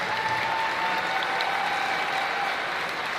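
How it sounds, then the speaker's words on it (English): A crowd at a declamation event gives sustained, dense applause, a steady wash of many hands clapping together at even loudness throughout. "can we get a big round of applause?"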